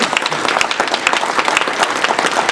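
Audience applause fills a room at a chamber of commerce awards dinner honoring the Outer Banks Citizen of the Year, with dense steady clapping from many hands and no voices on top.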